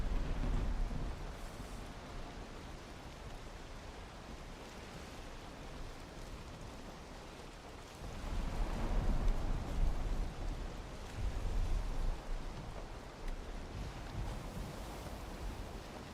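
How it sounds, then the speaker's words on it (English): A thunderstorm rages in Valheim, steady rain and wind roaring throughout, with a louder swell of rumbling thunder and surf-like gusts rising midway and lingering; no one speaks. "Another storm? We just had a storm."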